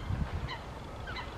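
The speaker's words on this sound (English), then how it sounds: "I can hear the birds chirping." Faint goose-like honks call a couple of times over a steady outdoor wind and traffic rumble by a big pond, distant and soft.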